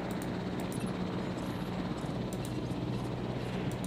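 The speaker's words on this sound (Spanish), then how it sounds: "Vamos a tener el sonido de helicópteros durante el resto de..." Helicopters in the Jurassic World: Evolution video game give off a steady, continuous rotor drone with a low rumble, filling the clip without pause.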